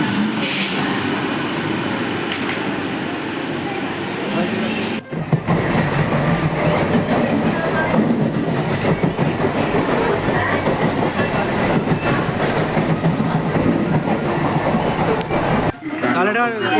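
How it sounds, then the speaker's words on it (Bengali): A Naihati local train pulls into a station, its wheels and carriages producing a loud continuous rumble and clatter close by, with voices faintly mixed in beneath the din. "নৈহাটি লোকাল ঢুকছে এখান থেকে"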